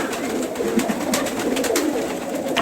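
Pigeons cooing in a pigeon loft after rain, steady soft low cooing from several birds at close range, with faint background clatter and no talk.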